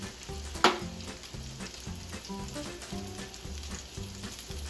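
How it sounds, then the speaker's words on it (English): Potatoes frying and browning in butter in a pan with salt, a soft continuous sizzle with a few light clinks and bumps near the start, close and fairly quiet, with no talk. "So what I want to do is I just want to start the browning process"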